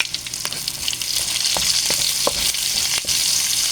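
Onions sauté in a hot pan with a loud, bright crackle, broken by repeated spatula strokes scraping and pushing them around; no speech.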